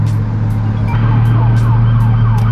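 A loud wailing police siren sweeps up and down repeatedly over a low engine rumble, sounding close outside on the street.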